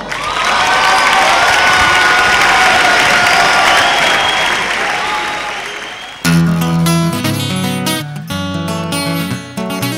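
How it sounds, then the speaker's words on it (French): A concert crowd claps and cheers loudly and steadily at the Halle de la Gombe in 2003, the applause fading as a band breaks into music partway through. "mesdames et messieurs, sous vos applaudissements"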